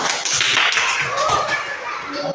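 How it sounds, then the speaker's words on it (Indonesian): A classroom of children claps together, a rapid patter of hands over about two seconds, with young voices mixed in. "Tepuk tangan untuk"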